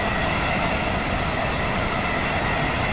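A Class 805 train in Train Sim World 6 taking power, with a dense, steady roar of rolling wheels and traction noise filling the whole clip, loud and unbroken.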